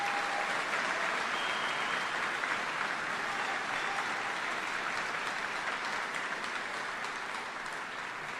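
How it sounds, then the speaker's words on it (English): Loud, sustained applause fills the hall at a military change of command ceremony honoring the outgoing commander, a dense continuous roar of clapping that holds steady and tapers slightly near the end. "let's give Tom a round of applause for exceptional work as the commander"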